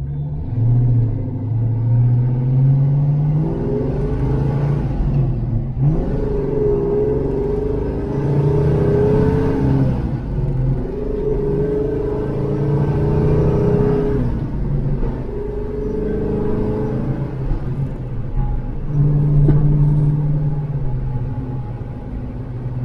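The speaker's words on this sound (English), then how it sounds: "So overall, I mean, the car is starting to drive really good." A Ford Mustang Foxbody running Megasquirt fuel injection makes street pulls, its engine rumbling loud and close with repeated rising revs and easing off over more than twenty seconds.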